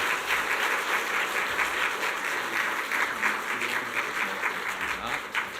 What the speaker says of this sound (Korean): 우리 뜨거운 박수로 축하하겠습니다